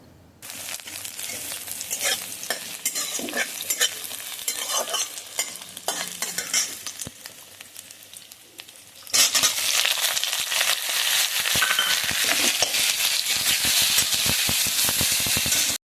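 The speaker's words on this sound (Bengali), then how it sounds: "তেল দিয়ে দিলাম সর্ষের তেল এখন আমি ফোড়ন দেব একটু জিরে আর তেজপাতা" Cumin seeds and bay leaf hit hot mustard oil in a freshly cleaned karahi, giving a steady, close sizzle with stirring scrapes. It starts moderate and grows louder and harsher about halfway through, then keeps crackling without a break.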